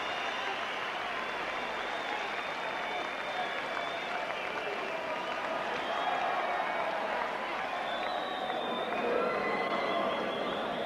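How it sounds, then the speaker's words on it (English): A crowd applauding a boxer after a heavyweight title fight in an arena, dense sustained clapping and cheering from a large audience that continues steadily throughout. "a round of applause, please, for this young man who came here to challenge tonight"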